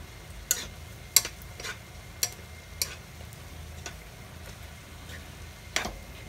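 A spoon stirs onions and vegetables frying in a pan for okra omelette, with scattered sharp scraping clicks over a soft, steady sizzle.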